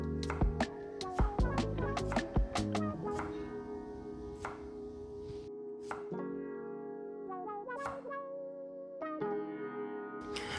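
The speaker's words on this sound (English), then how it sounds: "Then we're gonna cut them into a 1/4 inch thick circles like this." A knife cuts peeled sweet potatoes into quarter-inch rounds on a cutting board, with a quick series of sharp chops followed by slower, spaced single cuts, close up with music playing underneath.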